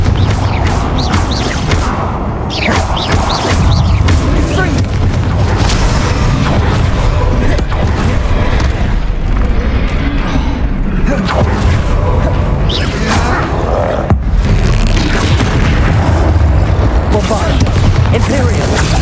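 Confringo and Bombarda blasting spells bursting one after another in Hogwarts Legacy, producing dense, loud booms and crashes with whooshing impacts that fill the stretch, with battle sounds layered throughout.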